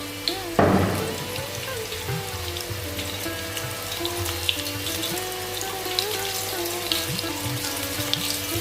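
Soybean chunks dropped into hot oil, a steady crackling sizzle like running water or rain, close and constant, with a louder splash as pieces go in near the start.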